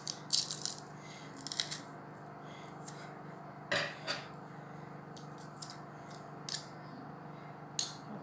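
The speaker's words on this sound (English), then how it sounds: "first I need to crush it with my garlic crusher" A garlic crusher presses garlic cloves in a home kitchen, giving several sharp metallic clicks and rattles spaced irregularly over a quiet background, with no talking.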